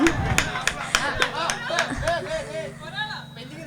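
Guests at a pre-wedding party game give a brief round of scattered hand claps, sharp and fairly close, mixed in with lively talk and chatter that continues after the clapping thins out.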